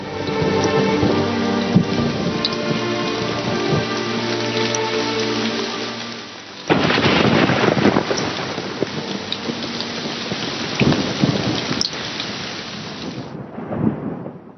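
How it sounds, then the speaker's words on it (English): Heavy rain pours steadily while deep rolling thunder rumbles through, followed by a sharper, louder crack and continued downpour. "It was a heavy rain at the time."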